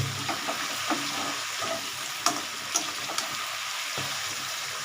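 Chicken curry sautéing in a pan, a continuous gentle sizzle broken by occasional clinks and scrapes of a spoon stirring, no talking.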